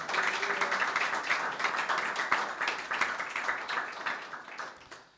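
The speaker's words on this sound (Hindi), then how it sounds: "यीशु मसीह के लिए तालियां बजाए" A church congregation claps at a worship teaching, a dense, steady patter of many hands with a loose rhythmic pulse that fades out at the end.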